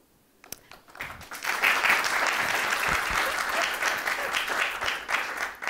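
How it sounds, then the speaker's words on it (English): An audience at a nonprofit advocacy training bursts into applause after a moment of quiet, a sustained, dense roomful of clapping that holds steady to the end. "I always like it when people applaud before you do anything"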